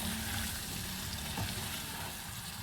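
Ridge gourd and lentil curry gets stirred in a frying pan, a steady close sizzle with faint scraping strokes and no talk throughout.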